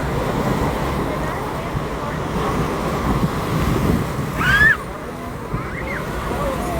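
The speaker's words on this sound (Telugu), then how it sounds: "ఆ మీద నుంచి వాటర్ పడుతూ ఉంటే అందరి మీద పడుతుందండి." Niagara Falls in New York, a huge waterfall roaring as a steady, dense rush of falling water, loud and continuous with wind buffeting the microphone and a voice now and then.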